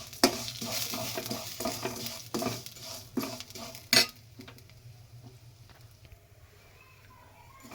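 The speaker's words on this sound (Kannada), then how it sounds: "ಅದಕ್ಕೆ ಸ್ವಲ್ಪ ತುಪ್ಪ ಹಾಕ್ಕೊಂಡು ಒಂದು ಅರ್ಧ ಕಪ್ಪಷ್ಟು ಶಾವಿಗೆ ತಗೊಂಡು ಅದನ್ನು ಸ್ವಲ್ಪ ರೋಸ್ಟ್ ಆಗೋಂಗೆ ಹುರ್ಕೊಬೇಕು" Vermicelli roasting in ghee in a pan, with a metal spoon stirring and scraping in repeated strokes over a soft sizzle, the clinks fading to a quieter sizzle toward the end.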